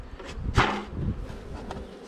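Honey bees buzz inside a beehive, a close steady hum with a brief louder rustle near the start.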